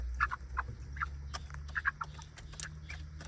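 Local village chickens clucking close by in short scattered bursts over a low steady hum, no voices.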